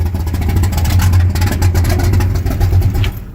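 A 1966 Ford pickup engine idles loudly and close by after its exhaust leaks are repaired, a rough, steady low rumble with pulsing exhaust beats that fades slightly at the end.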